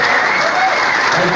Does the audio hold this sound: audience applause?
yes